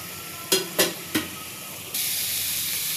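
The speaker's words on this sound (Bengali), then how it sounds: "মশলাটা একদম ভাজা ভাজা হয়ে গেছে" Spice masala fries in a pan for a small fish chorchori: three quick scraping clatters of a spatula, then a steady, loud sizzle that continues to the end.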